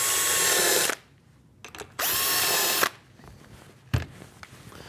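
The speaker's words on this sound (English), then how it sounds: "Drill the pilot holes." Power drill boring pilot holes into a router table top, two loud sustained whining bursts of about a second each, separated by a quiet pause with small clicks and a thump near the end.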